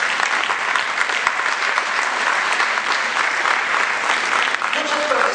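Conference audience applauding in a lecture hall, a steady dense wash of clapping that holds loud and even for several seconds.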